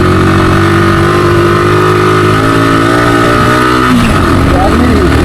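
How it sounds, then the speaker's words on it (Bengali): A vehicle's engine labours loudly on a rough, steep mountain road toward Keokradong, a close, steady drone with a shift in pitch partway through and a voice talking over it. "আসলে ইঞ্জিনের আওয়াজ আমি শোনাচ্ছি"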